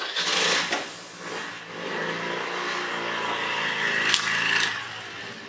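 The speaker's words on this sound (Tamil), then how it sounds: "சரி இப்போ வந்து இது மேலே வண்டி ஏற்றி பார்ப்போம்" A Honda Dio scooter ridden up and over a Nokia 3310 phone: a close, strained engine whine that dips and then rises steadily, with a couple of sharp clicks near the end.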